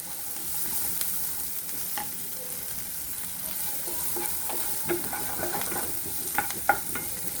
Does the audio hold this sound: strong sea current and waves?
no